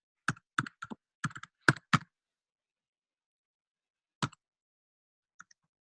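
A computer keyboard typed on to enter a password: a quick cluster of about eight crisp key clicks, a pause, then one more click and a faint tap, close and quiet against silence.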